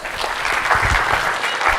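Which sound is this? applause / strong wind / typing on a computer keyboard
applause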